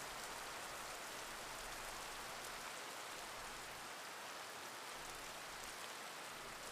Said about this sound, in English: I can hear the sounds of the rain coming from somewhere. It's a prolonged, quiet drizzle.